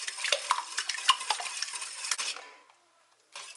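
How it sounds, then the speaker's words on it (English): A whisk beats chocolate muffin batter of vegetable oil and milk in a bowl, giving rapid scraping and clinking strokes for about two seconds, then stopping, with one brief stir after a pause. "Then you're going to want to whisk everything until it's all combined"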